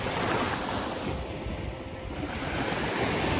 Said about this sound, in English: wake up and see the ocean, hear the waves crashing